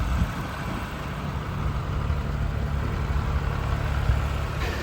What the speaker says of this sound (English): one of them is already out there on the tractor driving it with his dad